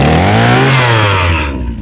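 A Honda GX35 brush cutter, sold as a used Japanese import, runs loud and close, its engine note sliding lower as the revs drop and then fading out near the end.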